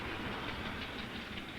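A steam locomotive train runs on the Deccan railway, giving a continuous close rumble of wheels and carriages with a faint rhythmic clatter, steady and unbroken, with no talk.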